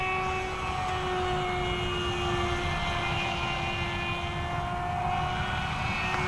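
A Flite Test STEM Jet Charlie RC plane flies overhead with a constant high motor whine that holds steady pitch, moderately loud and uninterrupted, with no voices.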